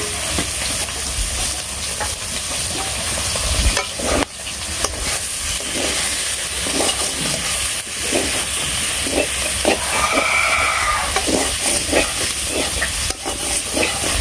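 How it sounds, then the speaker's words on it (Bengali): Green chillies fry in a pan in a village kitchen, giving a continuous loud sizzle broken by scattered utensil clicks and stirring scrapes throughout. "কাঁচামরিচ ভেজে দিলাম"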